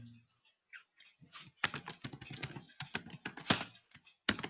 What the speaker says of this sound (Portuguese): Ele está dando inalterado porque eu estou digitando a mesma senha.